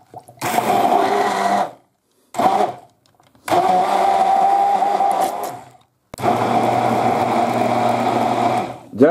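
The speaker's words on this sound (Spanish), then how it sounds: "Ya hemos acabado de batirlo." Blender whirring through a hake and prawn filling in bursts, a loud close motor drone that stops and restarts three times.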